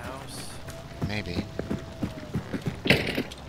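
A locked door rattled and clicked several times when tried in Hunt: Showdown, short mechanical knocks and creaks at close range under quiet ambience, with a voice speaking briefly.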